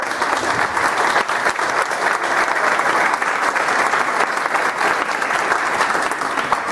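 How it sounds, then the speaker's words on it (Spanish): Steady, sustained clapping from an audience of teachers at a Todos a Aprender education program meeting, a close, even wash of many hands continuing for several seconds with no voices over it. "Un aplauso para ustedes."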